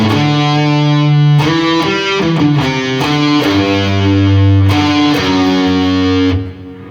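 Distorted electric guitar plays a song's intro line slowly, one note at a time, with sustained, overdriven tones, loud and alone, ending on a fading final note.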